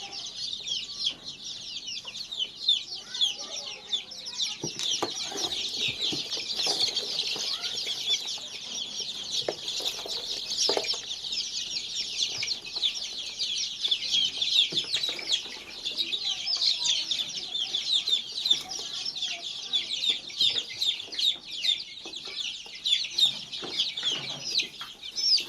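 A brood of 30-day-old country chicks on a farm keeps up dense, continuous high-pitched cheeping and peeping, many birds overlapping at once, close by and steady throughout.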